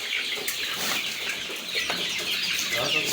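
Sasso chickens crowding in a poultry farm in Kenya, a busy chorus of clucking and chattering birds nearby with occasional wing flaps, continuous and moderately loud with no speech.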